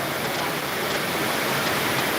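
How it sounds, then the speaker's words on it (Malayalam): Steady rain falls without a break, a dense, even hiss that fills the whole moment at a constant level, with no voices or other distinct sounds. "ഇപ്പൊ മഴയാണ്"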